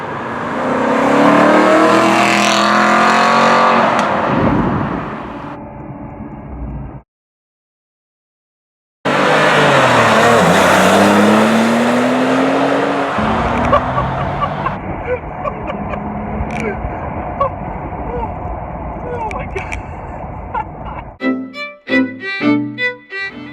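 A Porsche 911 Turbo and an Aston Martin V8 Vantage driven hard, with loud engine roar and rising revs, a brief silent gap, then more sustained driving noise and a closing burst of rhythmic music.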